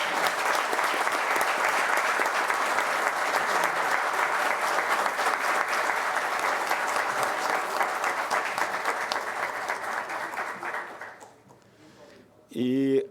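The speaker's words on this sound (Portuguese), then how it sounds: "uma salva de palmas para ele." Sustained audience applause at a formal ceremony, loud and steady for about eleven seconds before fading, followed by a brief burst of speech near the end.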